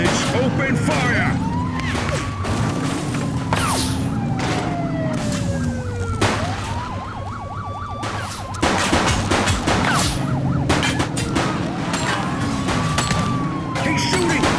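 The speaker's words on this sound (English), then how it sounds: "He's shooting!" Gunfire in the police video game The Precinct during a vehicle pursuit, sharp bursts of shots breaking through loud wailing sirens and engine noise, with radio-style voices speaking over the chaos.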